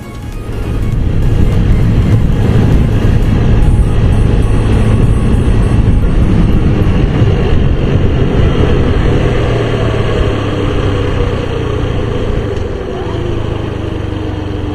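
A vehicle comes up from behind on a road during a Mumbai to Ratnagiri bike trip, a loud steady engine and road roar that holds strong throughout with faint higher whine on top.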